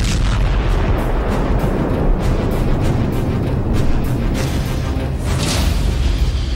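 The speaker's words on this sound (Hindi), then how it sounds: "क्या कण कण को थर्राने वाले ऐसे धमाकों से धरती का साक्षात्कार होने वाला है?" Heavy explosion effects in a war news report boom in a continuous, loud rumbling roar with repeated bursts of crackling blasts layered over one another throughout.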